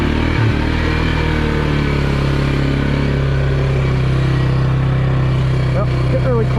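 Stock-tired Polaris UTV in four-wheel drive low gear churning through mud, its engine droning steadily and loudly throughout, with a brief clunk near the start and a few rising revs toward the end.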